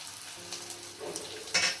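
Curry leaves hit hot oil in a pan with garlic, crackling and sizzling steadily up close, with a sharper burst of spatter near the end.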